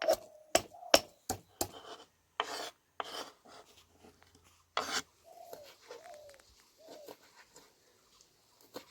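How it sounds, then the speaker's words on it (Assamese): Garlic and ginger being crushed: a quick run of sharp pounding strikes, then slower scattered knocks and rasping grinds with quiet gaps between, close and fairly faint. "কেইটামান নহৰু আৰু অকণমান আদা খুন্দি লৈছোঁ।"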